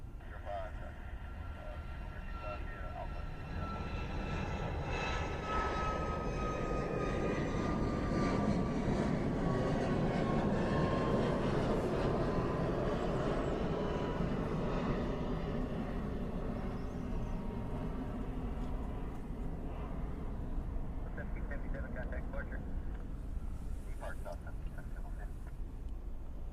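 A Southwest airliner's jet engines roar steadily while it departs a Hawaii airport, a long, loud, rising and sustained rumble with faint voices and radio chatter in the background.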